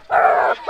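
A single loud, drawn-out dog bark or yelp rings out close by at a high school football game between the Grand Lake Hornets and Centerville Bulldogs, followed by the start of a second bark.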